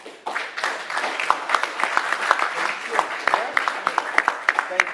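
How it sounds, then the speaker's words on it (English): An audience at an open education conference gives presenters a full round of applause, dense overlapping clapping that starts abruptly and stays loud and sustained, with a voice faintly mixed in. "give the presenters a round of applause"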